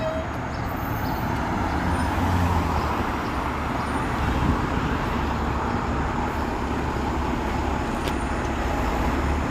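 A bus driving along a city street on Lawrence West in Toronto: a loud, steady low engine rumble with road noise that swells gently and stays close, no voices over it.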